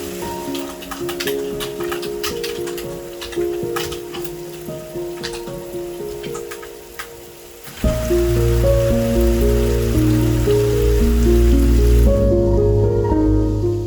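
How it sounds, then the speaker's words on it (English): Steady rain hisses and patters without a break, with a low rumble and a droning tone growing louder partway through. No voices. "accompanied by the steady sound of rain"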